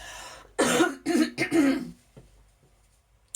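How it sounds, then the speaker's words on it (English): A person clears their throat several times in quick, rough bursts at close range, then goes quiet. "I just need to clear my throat, friends."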